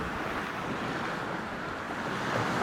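Sea waves wash onto a sandy beach at a waterfront property, a steady broadband roar of surf mixed with wind buffeting the microphone, continuous and fairly close throughout.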